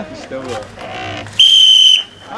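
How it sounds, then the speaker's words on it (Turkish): A single loud, steady referee whistle blast, about half a second long, starts a wooden cart race at the Laz Ralli in Rize, Turkey; voices and crowd chatter come just before it. "Düdük çaldığımı yarışma başlıyor."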